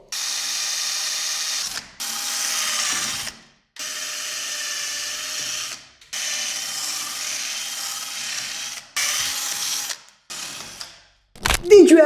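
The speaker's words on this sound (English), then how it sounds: "Just take a smaller drill bit than the size of the rivet head and drill right in the center until the rivet head falls off." Drill boring out the rivets on an SC-Project motorcycle exhaust, a sustained high whine in several bursts of a few seconds each, separated by short pauses, with a brief clatter at the end.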